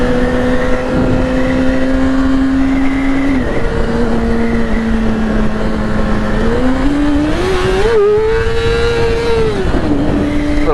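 A motorcycle at high highway speed holds a steady, loud engine drone, its pitch rising and falling with throttle changes over constant wind rush.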